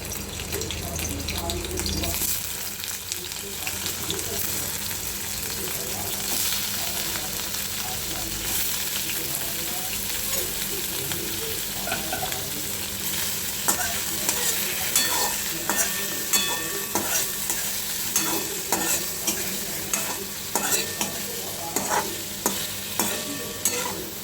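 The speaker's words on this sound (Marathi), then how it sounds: "आता त्याच्यामध्ये मी तुपामध्ये पनीर भाजून घेणार आहे।" Paneer fries in hot ghee in a kadai on a gas stove, giving a continuous sizzle through the whole stretch. A spoon stirs and scrapes against the pan, with sharper tapping clinks toward the end and occasional faint talk.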